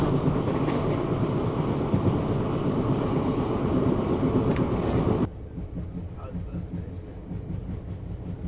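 A Pongal festival special passenger train travelling from Bangalore to Madurai rumbles along steadily with a loud, dense roar that drops suddenly to a quieter hum partway through.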